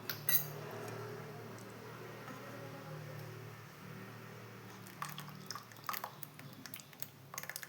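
A maida flour mango halwa mixture is stirred in a pan over a low flame, making soft, wet scraping and squishing sounds that turn into clearer clinks and scrapes of the spoon toward the end.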